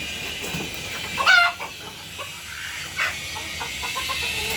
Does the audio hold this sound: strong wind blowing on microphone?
no